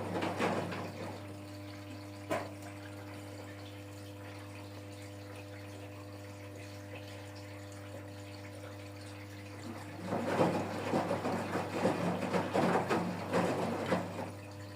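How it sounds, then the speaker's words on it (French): Water runs steadily into a container while fabric softener is being mixed, a low continuous pour under a constant hum that swells louder and more turbulent toward the end, with no talking. "Il faut toujours ajouter de l'eau."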